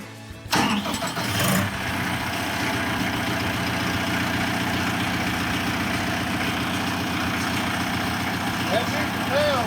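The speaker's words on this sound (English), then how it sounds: "Then to simply start the engine," A Deutz diesel engine on a portable fan cranks over and catches, then settles into a steady, loud mid-pitched idle that runs without a break, with a voice briefly heard over the start.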